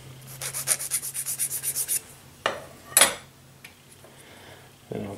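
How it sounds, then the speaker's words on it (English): Rapid rhythmic sanding strokes on a small N scale model diesel part, about a dozen quick back-and-forth rasps, then a few scattered scraping sounds and soft handling noises close by. "Give a little bit of a sanding to straighten it."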